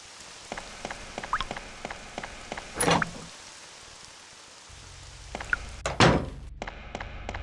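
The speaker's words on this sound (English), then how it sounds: "And then it begins to rain." Rain falling in the RPG Maker horror video game TAUT: a soft patter runs under a string of sharp, evenly spaced drips or ticks, with two louder splashing bursts along the way.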